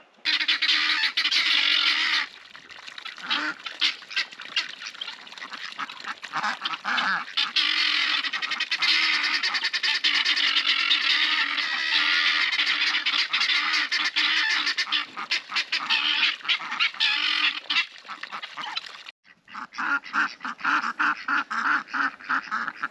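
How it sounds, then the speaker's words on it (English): A group of ducks quacking and squawking loudly and almost continuously, harsh overlapping calls close by with only brief pauses. "I think the old ducks are scared of the new ducks."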